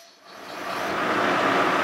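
A lathe cuts 303/304 stainless steel at a faster feed of 20 thousandths per revolution. A hissing, grinding cut swells quickly from near silence and holds strong, close and loud.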